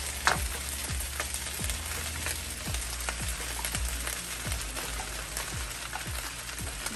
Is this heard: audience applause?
no